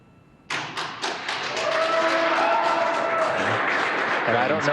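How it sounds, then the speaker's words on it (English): Mission control erupts in applause at a SpaceX Crew Dragon splashdown, starting abruptly with a few loud claps and swelling into sustained, dense clapping that continues to the end. "I don't know if you can hear the applause on Splashdown."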